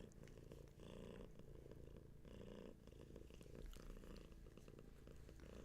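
A cat purrs right up close, a continuous low rumbling purr with a gentle in-and-out rhythm as it breathes, steady and intimate with no talking.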